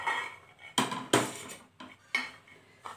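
Fried ingredients for a coriander-tomato chutney scraped from a pan onto a plate, with several sharp metallic clinks and scrapes of a utensil against cookware, close and fairly loud, separated by short pauses.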